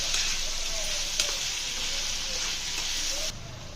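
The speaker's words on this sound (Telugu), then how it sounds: "టమాటాలు యాడ్ చేసుకొని ఆయిల్లో బాగా మగ్గేలా కలుపుకోవాలి" Chopped tomatoes fry in hot oil with a steady, close hissing sizzle and occasional spoon stirs against the pan, the sizzle easing slightly near the end.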